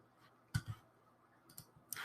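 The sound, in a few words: computer mouse click on Hold button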